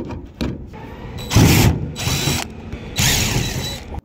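Power drill undoing screws on a trailer roof vent, sounding in several short whirring bursts with ratcheting clicks between them, close and loud.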